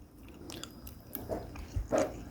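Semi-dried bluegill fish being chewed close up, with a few soft wet bites and crunchy chews spaced across a quiet background and no talking.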